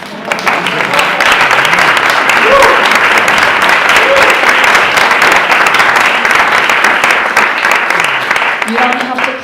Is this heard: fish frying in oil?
no